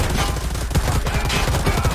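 Rapid automatic gunfire in the video game Predator: Hunting Grounds: a loud, continuous burst of shots with a fast, rattling rhythm that fills the whole two seconds, with no talking.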